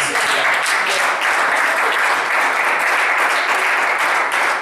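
A church congregation at a seminar applauds and acclaims the Lord with loud, sustained clapping, a dense even roar of hands lasting throughout.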